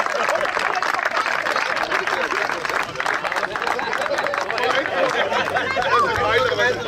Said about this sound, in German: Dafür mal einen Applaus.